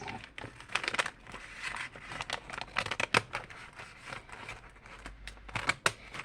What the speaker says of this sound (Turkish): Şimdi ben açmaya başlıyorum makasla.